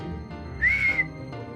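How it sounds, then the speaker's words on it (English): A single short whistled note from a person calling for a horse during a tabletop role-play session, brief and clear over a low background hum. "Can we whistle for a horse like in Colossus?"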